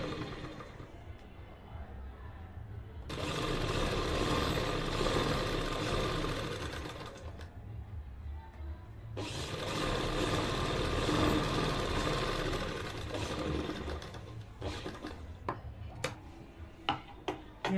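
A sewing machine stitches a top seam on a salwar bottom in two long steady bursts of rapid whirring, separated by pauses, followed by a few sharp ticking clicks near the end, close and moderately quiet.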